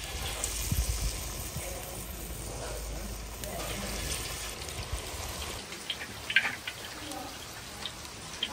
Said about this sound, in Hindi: बारिश जो है ना वो तो रुकने का नाम ही नहीं ले रही, बिल्कुल अभी और तेज हो गई है